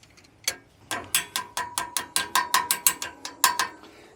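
A ratchet wrench clicks steadily in quick, loud strokes while backing a bolt off a Gannon box blade on old farm equipment, a dozen or so sharp ratcheting bursts in an even rhythm with no talking.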